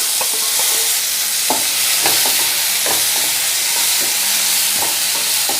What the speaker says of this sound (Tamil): அதையும் இதோடு போட்டு நம்ம வறுத்து எடுக்கணும்.